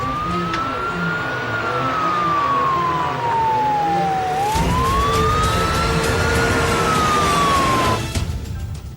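Police car siren wailing as it approaches, a loud rising and falling tone over a low engine rumble, growing closer and louder midway before cutting off.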